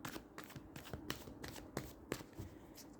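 Tarot cards are riffled and shuffled by hand in quick, rhythmic papery flicks with soft slaps, steady and close throughout the short stretch, with no voices.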